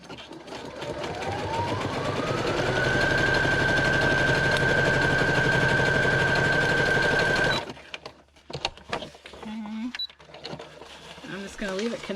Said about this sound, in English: we're going to do first some zigzag stitching